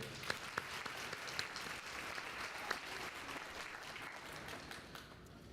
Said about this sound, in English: So let's give a round of applause for everyone.